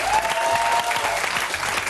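Studio audience applauding on a French comedy show, dense, loud clapping close by, sustained for the whole moment with faint low rumbles beneath.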